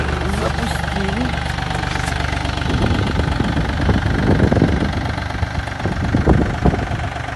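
A freshly started Yanmar F215 Japanese mini tractor engine idles loud and close in a steady rumble, with a few rougher bursts midway and someone speaking briefly over it.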